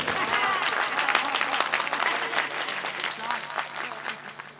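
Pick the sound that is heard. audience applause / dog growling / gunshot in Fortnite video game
audience applause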